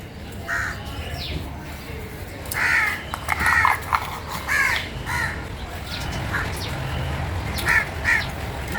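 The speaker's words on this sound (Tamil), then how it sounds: "காக்கையா" Crows caw in short, repeated bursts at moderate distance over a constant outdoor background noise, with several calls overlapping near the middle and end while birds are being fed.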